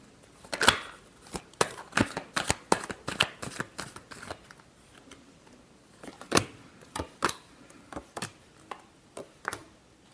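Tarot cards shuffled close by in repeated sharp, irregular slaps and riffles, loud against a quiet background with short pauses between bursts.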